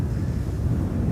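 Strong gusting wind at Amsterdam Schiphol Airport buffets the microphone as a loud, continuous low rumble, with no voices over it.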